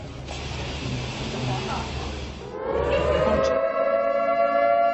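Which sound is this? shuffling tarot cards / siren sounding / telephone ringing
siren sounding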